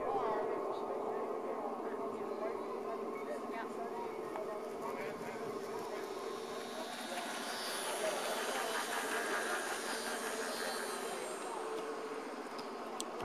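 A Super Chief model train runs steadily on its layout, a continuous mechanical rumble and hum with a faint metallic whir, while people talk over it throughout.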